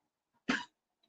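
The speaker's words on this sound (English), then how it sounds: "That's the dog having a little cough." A dog gives one short, sharp cough from under a table indoors, a single close burst with near silence before and after.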